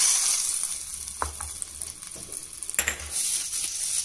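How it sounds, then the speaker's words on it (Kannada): Hot garlic tempering in coconut oil poured into colocasia leaf chutney sizzles with a steady hiss, broken by a couple of brief crackling bursts and soft clinks, close up with no voices. "ಈಗ ಬೆಳ್ಳುಳ್ಳಿ ಒಗ್ಗರಣೆನ ಗೊಜ್ಜಿಗೆ ಹಾಕ್ತೀನಿ."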